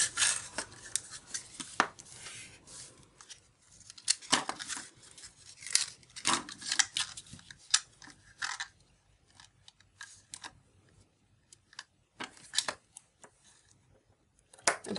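Scissors snip through paper pieces for a handmade card, a quick series of close, crisp cuts and clicks with short pauses between bursts, alone without talk.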